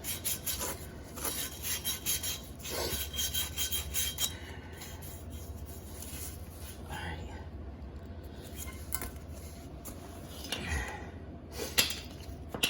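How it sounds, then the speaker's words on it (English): Sandpaper rubs in short rasping strokes against a brake component during rear wheel bearing work on a 2009 Mazda 5, close and steady, with a muffled voice at times. "You take a little touch of sandpaper and just"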